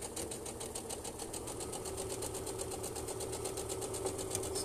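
Sewing machine running steadily while stitching a fabric dachshund toy, lock stitching a few steps forward and back; a continuous fairly loud mechanical whirring hum with a rapid rhythmic stitching pulse throughout.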